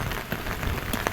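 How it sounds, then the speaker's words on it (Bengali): Heavy rain pours steadily around the pool area of a Park Hyatt hotel, a dense, even patter of drops striking the surfaces nearby, fairly close and with no voices. "বৃষ্টি প্রচুর বাড়তেছে, প্রচুর বৃষ্টি বাড়তেছে"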